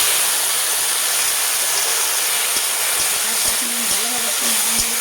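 Kalmi greens (water spinach) hitting hot oil in a wok, giving a steady broad hiss of sizzling that carries on with a few soft stirring knocks.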